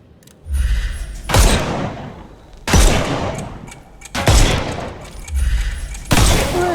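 Gunfire in the Sherlock Holmes Chapter One video game, shooting off enemies' armour: four loud, sharp blasts at roughly one-and-a-half-second intervals, each with a thud and a decaying ring.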